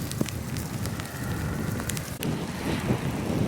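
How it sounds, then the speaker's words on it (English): Hail pelts down across a backyard where snow has melted, a dense, steady patter of small impacts with sharper hits ringing off nearby surfaces, continuous and moderately loud with no talking. "There's hail coming down now."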